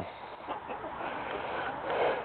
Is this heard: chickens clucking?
yes